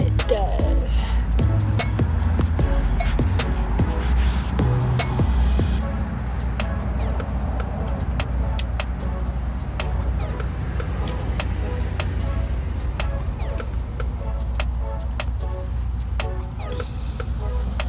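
A portable jump starter with a built-in air compressor inflates a very flat car tire outdoors in the cold. It makes a loud, steady buzzing drone with rapid rattling clicks throughout, easing slightly after the first few seconds, with no talking.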